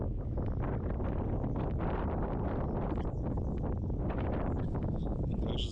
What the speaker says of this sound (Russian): Как же задувает ветер.